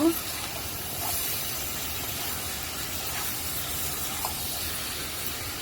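Water poured into a hot pan of vegetarian curry sets off a broad, continuous steamy hiss that stays level throughout, with a soft knock at the very start.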